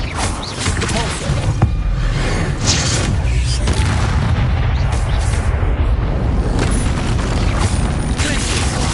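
A Repulsor spell blasts in Hogwarts Legacy amid a steady, loud rush of booming, thumping combat effects that keep going throughout, with a voice shouting spell names over them.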